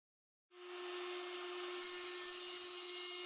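A PROXXON IBS/A cordless drill grinder with a permanent-magnet DC motor rated up to 23,000 rpm switches on and spins up quickly to a steady, high-pitched whine that holds at close range, with no talking.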